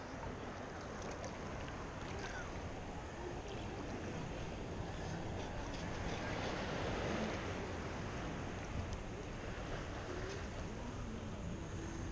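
Choppy bay water slaps and washes around a small boat in a steady, faint, continuous roar with wind, no voices, while someone searches the bottom with a scoop.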